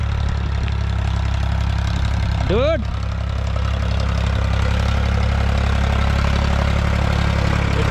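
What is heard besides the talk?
tractor engine ploughing a field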